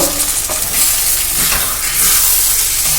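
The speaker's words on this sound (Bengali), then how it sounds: "দেখুন এবার তেলের সঙ্গে সুন্দর করে কিন্তু ডালটা আমরা কষে নেব।" Lentil paste frying and being stirred in hot oil for a vegetarian dhoka dalna, giving a steady loud sizzle and hiss with scraping stir strokes throughout, no voices.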